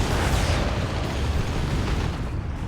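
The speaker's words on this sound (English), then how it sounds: "Wondered what all the explosions were. It's stick bombs." Stick bomb explosions in the Warhammer 40,000: Dawn of War 2 strategy game: a dense, continuous roar of overlapping blasts and booms fills the whole stretch, loud and up close.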